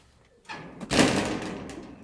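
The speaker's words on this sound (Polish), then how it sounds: "A to drzwi się same nie otworzą" A door on a farm is pushed open nearby, a short thud followed by a broad, rustling whoosh that fades over about a second, loud and close with no talk over it.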